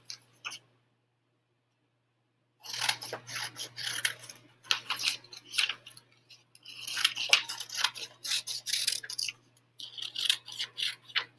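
Scissors cut out a paper worksheet in repeated crisp snips and rustling bursts, up close, with short pauses between runs of cutting.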